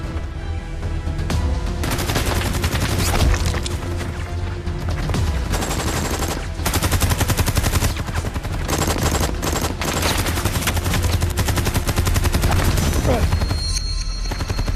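Gunfire and artillery in a Chinese war film battle at Shangganling: dense, continuous machine-gun fire and booming explosions fill the whole stretch, loud and close, with shouted commands mixed in.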